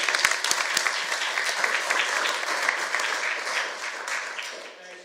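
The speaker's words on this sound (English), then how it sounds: "I think you deserve a big round of applause." Audience applause at a Shark Tank Virginia pitch event, a full, even wash of clapping from a large crowd that holds steady and then thins out toward the end.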